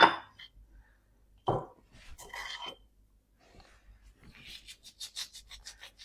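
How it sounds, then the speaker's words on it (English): Coarse salt rubbed between fingers over flour and baking powder for a dairy-free cake gives soft, gritty rasps, first in brief bursts then a run of quick scratchy grains toward the end, close and fairly quiet. "Quite coarse salt, that's why I'm rubbing it between my fingers."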